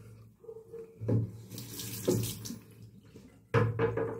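Tap water runs into a sink for rinsing the face after a wet shave with a Parker Solo Edge razor, in bursts of close splashing and gurgling that surge and pause several times.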